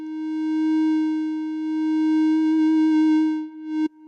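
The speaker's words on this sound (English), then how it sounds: "the original Theremin sound, to a sine wave, probably the most closest to that," A pure, steady sine-wave tone from the Thereminator 2 theremin app on iOS holds one pitch with a slight wobble, then cuts off abruptly with a short click near the end.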